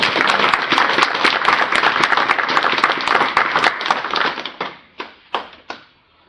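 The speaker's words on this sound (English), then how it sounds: "I think Mabry deserves a round of applause from these fine" A room of people at a city council meeting applauding a Student of the Month, brisk close clapping that holds steady and then tapers to a few final scattered claps.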